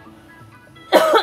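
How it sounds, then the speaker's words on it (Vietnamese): A man gives one sudden close cough near the end of a short, quiet stretch. "sorry các bạn, anh bị ho."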